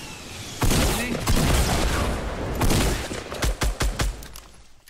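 Gunfire in Fortnite Battle Royale, a loud close burst of rapid shots followed by sporadic single cracks and a short stuttering string near the end, mixed with game effects.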